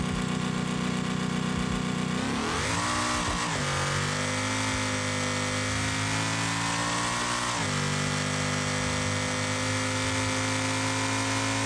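A car engine in a BeamNG driving game test, four-wheel drive with altered boost mapping, drones loudly and continuously, its pitch rising and shifting as it revs up through gears.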